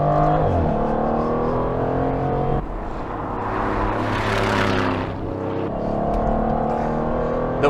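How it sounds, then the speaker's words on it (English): An Aston Martin Vantage F1 Edition driven hard on a race track: the engine and exhaust roar loudly and steadily, rising and falling through acceleration and downshifts, with a brief rougher burst midway. "There's the bark of the exhaust, both on acceleration and on downshift."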